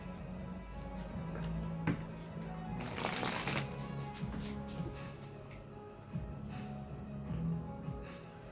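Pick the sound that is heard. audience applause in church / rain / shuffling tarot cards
shuffling tarot cards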